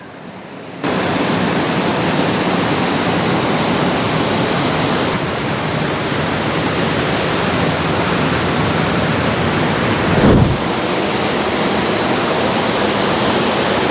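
El Chorro waterfall in Panama roars as a steady, loud, broadband rush of falling water, close and unbroken for the whole stretch, with one brief low thump partway through and no voices.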